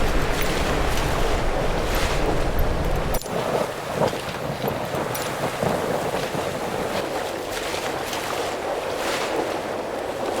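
Motor boat engine in Microsoft Flight Simulator, a steady broadband rumble mixed with wind and water wash, loud and continuous, briefly thinning partway through, with no talking.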